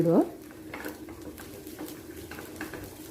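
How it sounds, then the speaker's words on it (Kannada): Cooked rice being stirred with spices in a pan for sesame chitranna, soft scraping and rustling stir strokes with a faint background sizzle, close and fairly quiet after a brief louder knock at the start. "ಅನ್ನ ಹಾಕಿ ಎಲ್ಲ ಪೂರ್ತಿ ಒಳ್ಳೆ ರೀತಿ ಮಿಕ್ಸ್ ಮಾಡ್ಕೊಳ್ಳಿ"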